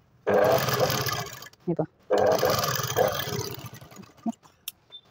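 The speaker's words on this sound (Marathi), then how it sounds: "कॅनव्हासच्या बाहेरून कपड्यावरच शिलाई आपण टाकायची आहे" A sewing machine stitches katori blouse fabric in two sustained, close whirring runs separated by a short pause, with a few brief spoken words between them.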